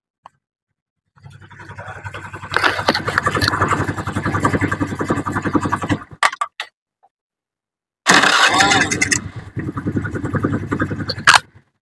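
A Honda Vario 110 scooter with a freshly serviced carburetor cranks and catches, running loud and close, then cuts out and starts again on a second try, idling steadily under some nearby talk.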